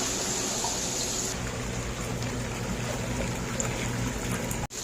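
Water pouring into a giant hot tub, a steady rushing trickle and splash with a pump-like hum that runs evenly, close and moderately loud, ending abruptly.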